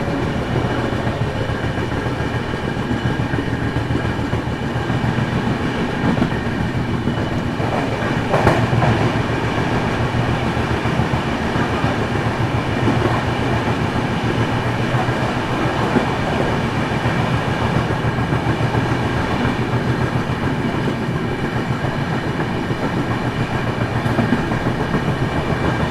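Inside the 20504 Dibrugarh Rajdhani Express, a 2nd AC coach passing through Raebareli Junction station gives a steady, loud rumble with continuous clickety-clack of wheels over rail joints.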